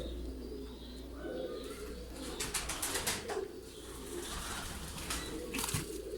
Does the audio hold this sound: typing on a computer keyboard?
no